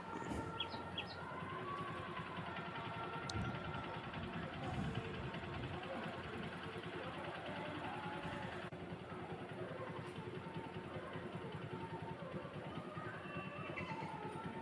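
A Honda Shine motorcycle engine idling after being started, a faint steady low rumble close by with some brief clicks and handling noises over it.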